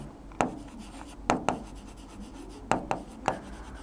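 Chemistry notes being written by hand produce a few sharp taps and short scratchy strokes, scattered irregularly and close by against a quiet room.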